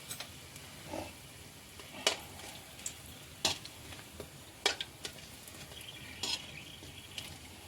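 Soft, low sizzle of asafoetida frying in hot sesame oil over low heat, broken by sharp scraping and tapping strokes from a spoon or spatula every second or so.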